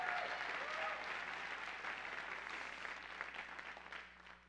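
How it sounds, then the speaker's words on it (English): A church congregation at a revival night gives a hand clap of praise, a soft, distant wash of applause that gradually thins and fades away over a few seconds. "Give him a hand clap of praise tonight."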